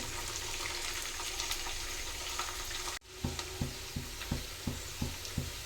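Bisi bele bath mixture fries in a pan with a steady, soft sizzle. Midway, a run of evenly spaced stirring knocks begins and repeats rhythmically over the hissing oil.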